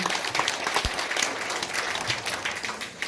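An audience at a small Seoul theater claps for an introduced professor, a steady dense round of applause with a few sharper claps standing out.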